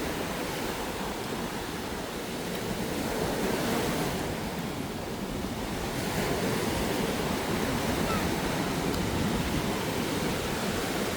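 Sea waves roll and wash continuously onto a beach on Boracay island while strong wind roars across the microphone, making a loud, unbroken surf-and-wind rush with no voices.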